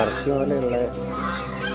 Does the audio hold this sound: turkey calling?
yes